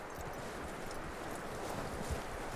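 A horse in Red Dead Redemption 2 moves with soft hoof clops and shuffling under a steady wash of ambient noise, fairly faint and continuous.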